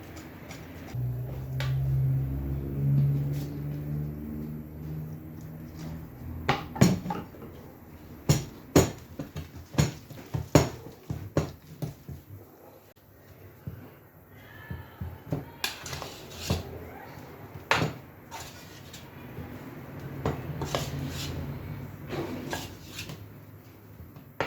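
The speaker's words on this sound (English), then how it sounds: "You whisk, you turn it, you mix everything, all the dried ingredients together." Dry ingredients for chin-chin snacks being whisked and turned together in a bowl, heard as a run of close, sharp clatters and scraping taps that come in irregular bursts, with no voices.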